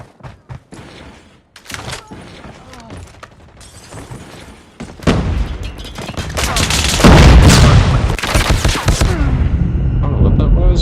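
Call of Duty Mobile ranked multiplayer gunfire and explosions, building from scattered cracks into loud, dense booming bursts and sustained firing, with voices talking in between.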